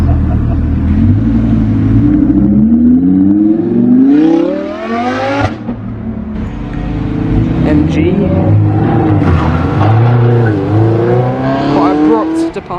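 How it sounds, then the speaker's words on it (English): A V10 engine at a classic car show revs loud and close, rising in pitch through repeated throttle blips with a brief drop between pulls, while a voice talks over it. "V10 noises."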